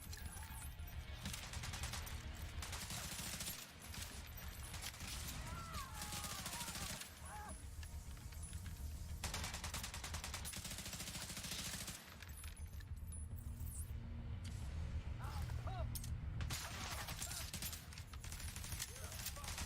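Submachine gun fire rattles continuously in The Division 2, loud and dense bursts of rapid shots with crashes and impacts mixed in, nearly unbroken across the whole stretch.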